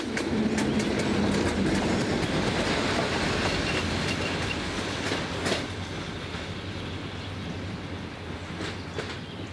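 A train runs along the Nagyvárad–Kolozsvár railway line, a steady rumble with rhythmic clickety-clack of wheels and a faint squeal early on, fading slightly toward the end.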